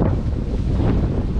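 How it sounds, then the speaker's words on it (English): Steady gusts of wind buffet the microphone outdoors while fishing, a loud, rumbling low roar filling the whole stretch with no other clear sounds. "That wind is blowing"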